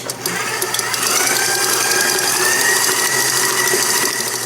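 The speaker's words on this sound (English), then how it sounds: "Gonna scrape and mix again." An electric mixer beats pineapple cheesecake batter in a bowl, a steady close whirring drone with a rattling mechanical edge that runs unbroken throughout.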